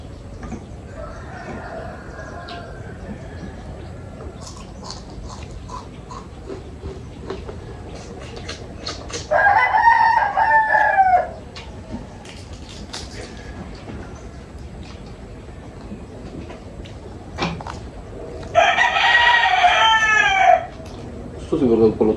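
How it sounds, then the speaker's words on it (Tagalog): A rooster crows twice from a moderate distance, with a long gap between the calls, over a steady background rumble and scattered faint clucks. "maingay talaga yung mga manok namin"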